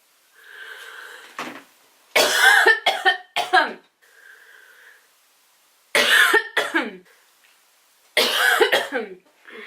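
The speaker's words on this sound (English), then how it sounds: "I just had a coughing attack off camera" Three bursts of harsh, hacking coughs, each a rapid cluster of several coughs, separated by quieter wheezy breathing and pauses.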